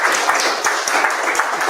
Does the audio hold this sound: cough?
no